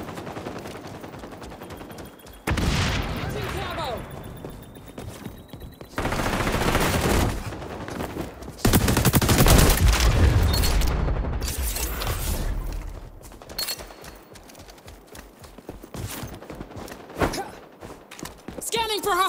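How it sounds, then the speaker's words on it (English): Frag grenade and gunfire in the XDefiant video game: loud bursts of automatic fire and a heavy blast midway, with sharp gunshots continuing in the background and in-game voice callouts heard over the action. "Deploying frag."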